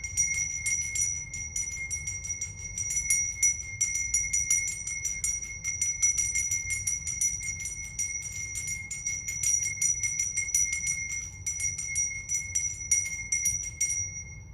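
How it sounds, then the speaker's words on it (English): A handmade bell tuned to a set pitch rings in a fast, sustained run of strikes for about fifteen seconds, bright steady tones shimmering over a low rumble, with no voices. "It is a handmade bell set to a particular frequency."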